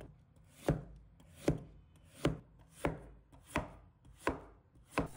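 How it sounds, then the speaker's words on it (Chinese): A knife cuts pumpkin into thin slices on a chopping board, making seven evenly spaced, crisp thuds against the wood over a quiet background. "再把南瓜被均匀地切成薄片"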